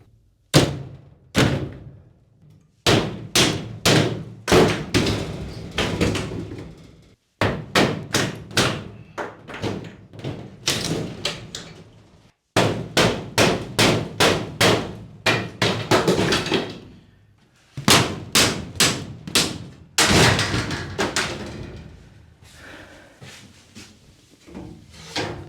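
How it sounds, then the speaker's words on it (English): A hammer bashes out wooden roof rafters inside a 1975 Viscount Ambassador vintage caravan, giving loud, sharp thumping blows in rapid bursts of several strikes separated by short pauses. "just bash out some of these rafters and see if we can start replacing them and keep the roof on for now"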